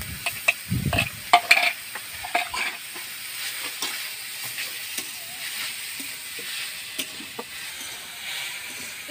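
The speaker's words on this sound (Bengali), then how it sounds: "পেঁয়াজটা হালকা করে ভেজে মাংসটা দিয়ে দেব।" Finely chopped meat fries with onions in a pan for chicken momo filling, a soft sizzle under repeated scraping and clacking of a spoon stirring, louder knocks near the start.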